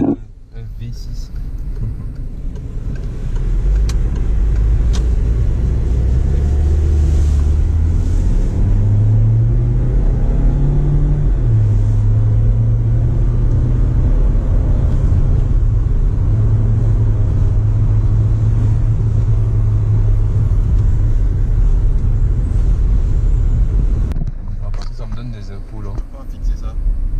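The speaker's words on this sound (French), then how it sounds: "Donc c'est un 4 cylindres turbo." A DS5 with a four-cylinder turbo engine runs loud and close for a long stretch, its deep droning rumble climbing and falling in pitch as the revs change, steady and continuous throughout.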